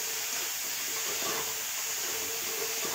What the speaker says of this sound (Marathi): आता आपण याच्यामध्ये हे टोमॅटो घालून घेऊया